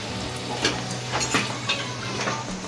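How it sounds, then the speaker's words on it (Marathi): Ingredients go into hot oil in a kadhai for a prawn rassa, making a steady close sizzle with a few soft stirring knocks. "आता कढईमध्ये तेल टाकलं तेल आपलं तापले आहे बऱ्यापैकी आता आपण कणकटा टाकूया"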